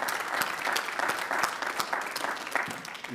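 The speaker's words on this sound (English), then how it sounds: "How about a round of applause for her?" Round of applause from an audience at an annual meeting, steady dense clapping sustained throughout, moderately loud and fairly close, with no talk over it.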